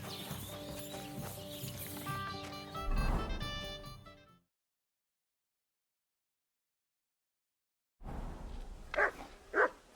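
A dog barks in the medieval role-playing game Kingdom Come: Deliverance II, sounding as two short, sharp barks close together after music, hoofbeats and a stretch of silence.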